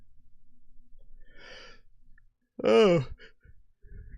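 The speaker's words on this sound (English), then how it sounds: "Can I stop yawning today?" A person yawns once with a long, loud voiced exhale after soft breathing, fairly close and alone, with a faint breath afterward.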